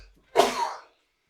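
One sharp, explosive sneeze bursts out close by after a short silence, a breathy blast lasting about half a second before trailing off into quiet.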